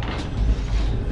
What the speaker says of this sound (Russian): Такая электрическая дверь.